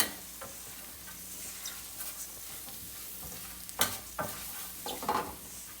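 Spices being stirred and mixed for a fenugreek and kalonji masala pickle, with soft scraping and crackling plus a few louder clinks and knocks near the end, close up and without talking.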